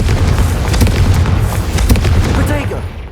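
A Confringo fire spell explodes in the video game Hogwarts Legacy, a loud, heavy boom with a continuous low rumble and crackle lasting about three seconds, while a voice calls out over it.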